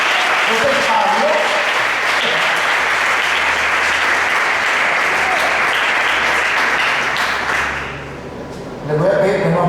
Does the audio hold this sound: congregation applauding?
yes